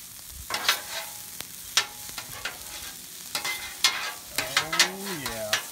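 Onions sizzle in butter in a pan while a utensil stirs and scrapes through them, the frying hiss steady under repeated close stirring strokes.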